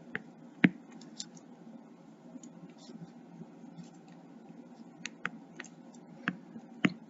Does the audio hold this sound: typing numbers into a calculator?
yes